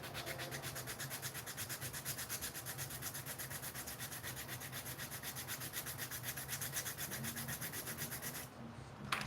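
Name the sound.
sanding a Pokémon print with finer sandpaper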